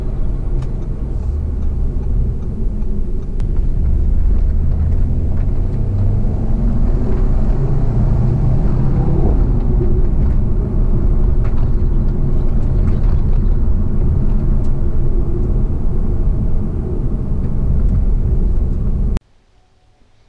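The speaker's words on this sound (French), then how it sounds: "ça freine. Ça accélère fort, mais ça freine fort également." Audi RS3 sedan braking and accelerating hard on a road drive, a loud steady engine and road rumble filling the cabin for about nineteen seconds before cutting off.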